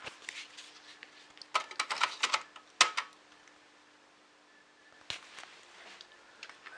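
Keys clatter on an Amiga A500 computer keyboard in quick uneven bursts, close and clear, separated by short pauses over a faint steady hum.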